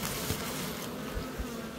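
Honeybees hum densely at an opened hive during a warm-weather inspection, a steady close buzzing swarm with no talk.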